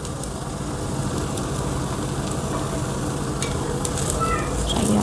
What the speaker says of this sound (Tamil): இந்த மாதிரி சிம்மில் வச்சு நல்லா ஃப்ரை பண்ணி எடுத்துக்கலாம்